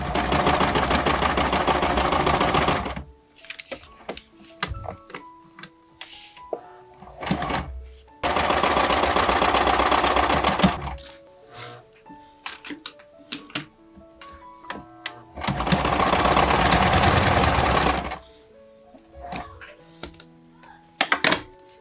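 A sewing machine stitches a vintage Barbie doll dress in three loud, steady running bursts of about three seconds each, separated by quieter clicks and fabric handling.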